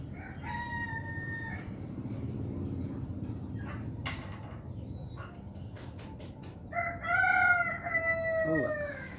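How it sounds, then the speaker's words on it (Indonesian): Roosters crowing repeatedly, with several drawn-out calls and clucks over a low steady background hum, one crow loud and close near the end. "Maaf ada suara ayam."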